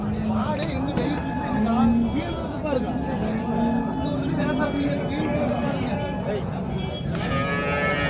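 Cattle moo repeatedly at a busy cow market, with loud nearby lowing calls over steady crowd chatter and people talking throughout.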